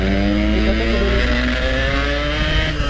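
A Yamaha RX King motorcycle engine runs loud and close in a steady, unbroken drone with no clear revving, filling the whole stretch.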